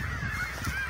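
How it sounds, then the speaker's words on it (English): Geese honk in a field crowded with seagulls, geese and ducks, a short burst of nasal calls at moderate distance, fairly faint. "We're about to flail through a huge portion of fucking seagulls, geese, ducks, you name it."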